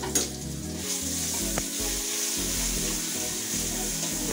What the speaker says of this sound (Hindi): उसके बदले हम यहाँ पे अदरक और लहसुन का पेस्ट डालेंगे।